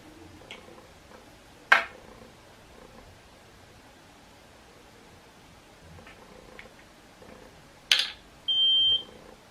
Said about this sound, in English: That one beep means 30 seconds.